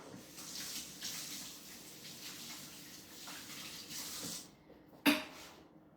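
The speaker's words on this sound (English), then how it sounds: "give my hands a rinse" Tap water runs steadily into a kitchen sink while hands are rinsed, a close, continuous splashing gush that ends with a sharp clunk as the faucet shuts off.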